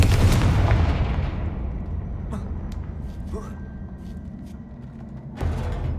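In the video game Hogwarts Legacy, a Confringo blasting spell detonates with a loud, booming explosion. Its roar fades over several seconds into scattered crackles and pops, and a second thump lands near the end.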